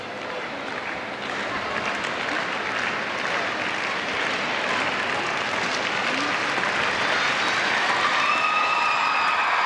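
A large crowd in the Palavela figure skating arena at the 2010 World Championships applauds steadily, a broad roar of clapping that holds and swells slightly toward the end.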